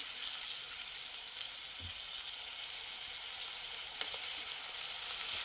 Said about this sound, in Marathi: बटाटा आणि काजू दोन्ही एकत्रच मी टाकत आहे.